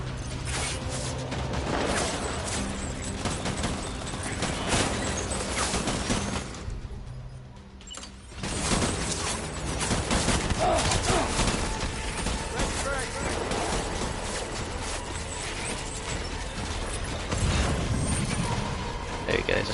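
Gunfire rattles through a firefight in the video game Death Stranding, a dense, loud barrage of shots and mechanical clatter that briefly drops away before resuming. A voice is present over the shooting.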